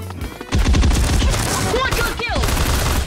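Automatic rifle fire from an Unreal Engine first-person shooter, sustained rapid bursts that dominate the mix from about half a second onward, dense and loud, with a voice talking faintly underneath.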